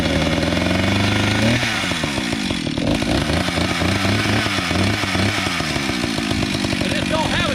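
An antique Stihl 031 chainsaw with a freshly cleaned carburetor runs loud and close, its engine revving and dropping with a rough, buzzing two-stroke drone that never stops.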